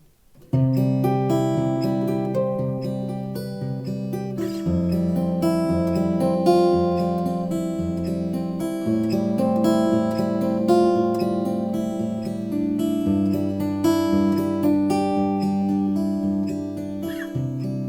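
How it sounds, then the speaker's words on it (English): Plucked guitar notes ripple through repeating broken chords, with extra melody notes layered on top, played alone and clearly. "this is going to sound like adding a melody to the chord"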